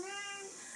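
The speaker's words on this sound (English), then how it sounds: "If you hear her meowing, that's what's going on." A cat gives one short, close meow with a clear tonal cry over faint room hiss.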